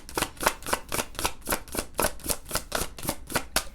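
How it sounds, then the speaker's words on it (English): Tarot cards being shuffled by hand, a steady run of quick riffling bursts repeating about four times a second, close-up and fairly soft, with no voices. "If I could shuffle these, that would be great."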